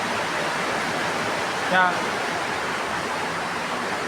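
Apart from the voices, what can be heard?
rainwater dripping and running down the side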